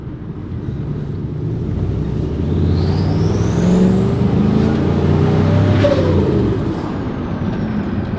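A loud, close turbocharged Chevrolet Silverado pickup engine roar rising as it revs through a 3-inch intake, with a whooshing turbo whine climbing and falling, steady rumble throughout.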